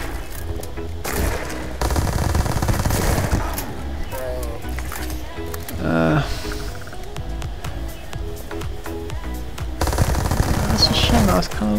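Street Sweeper gun in Starfield firing in long, rapid bursts, dense and loud automatic gunfire that carries almost the whole stretch with brief pauses, mixed with game effects.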